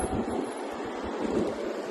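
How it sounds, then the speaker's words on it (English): Wind buffets a microphone outdoors near cruise ships, a continuous low rumbling roar with gusty thumps. Faint surf or water noise sits beneath it. "A little windier here today than I thought it was going to be. I didn't expect the wind."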